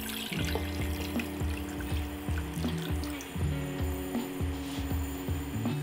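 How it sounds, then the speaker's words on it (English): A mixture of sake, soy sauce and mirin poured into a pan over medium heat, a continuous liquid trickle with a faint rhythmic ticking underneath, close and moderately quiet, with no talking. "Now pour this into a pan on a medium heat."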